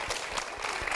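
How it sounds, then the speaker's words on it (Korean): A church congregation claps together in steady, continuous applause, loud and close throughout the short moment with no voices over it. "다시 한번 우리 목사님과 교회를 위해서 다시 한번 큰 박수 부탁드립니다."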